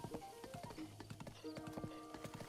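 Horse hooves clip-clopping in The Legend of Zelda: Breath of the Wild, a quiet, steady trotting rhythm of light taps under soft background music.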